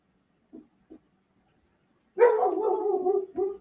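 Two small yips sound faintly, then a dog barks and howls in a longer burst, followed by one more bark, nearby and moderately loud in an otherwise quiet room.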